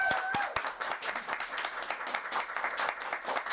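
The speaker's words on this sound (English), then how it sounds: "Can we get a round of applause for Lara, please?" A room full of people applauds a conservation speaker named Lara with dense, steady clapping at moderate distance, sustained without pause.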